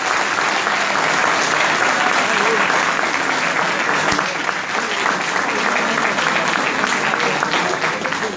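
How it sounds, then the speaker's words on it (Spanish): Sustained audience applause at a political campaign launch in Villa Gesell fills the stage area, a dense, steady clapping from a large crowd holding at even loudness throughout with no break. "el aplauso nuevamente para Esteban Rodríguez."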